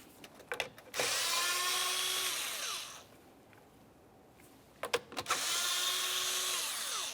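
A power tool spins out 7mm-headed bolts on a 2001–2005 Ford Sport Trac XLT in two whirring runs of about two seconds each, each preceded by short clicks, with a quiet gap in between.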